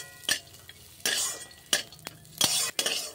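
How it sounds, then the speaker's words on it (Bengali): Cashews and raisins stirred in hot ghee in a pan, a spoon scraping and clinking in several separate bursts with a faint sizzle between them. "একটু নাড়িয়ে নেব হালকা করে"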